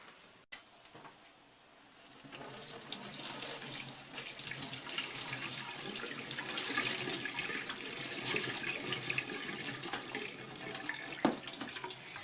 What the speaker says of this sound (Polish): Wrzucam ją więc teraz na sitko. i przeleję wrzątkiem.